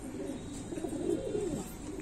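A pigeon coos near at hand in a short, low, wavering call that swells and fades over about two seconds, alone without speech.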